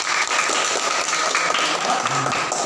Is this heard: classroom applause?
yes